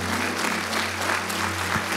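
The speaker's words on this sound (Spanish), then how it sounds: "démosle un fuerte aplauso al Señor" A church congregation claps loudly, dense applause filling the room continuously.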